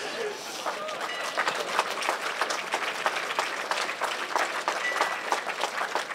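Crowd applause at an AfD evening political rally in Pirna, dense continuous clapping from many people at moderate loudness, steady for the whole stretch, with some voices mixed in.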